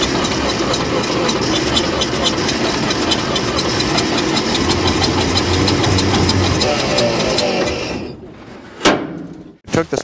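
A long-abandoned 1949 Dodge pickup engine runs loudly and roughly for about eight seconds with audible knocking, then cuts out, followed by a couple of sharp clunks like a door.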